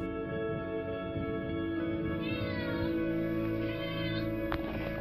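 A cat meows close by, a drawn-out call over a steady low hum in the room.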